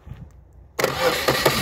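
A boat engine just back from the repair shop, once flooded and now suspected of white smoke, cranks and catches abruptly, then runs as a loud close rough idle with no talk.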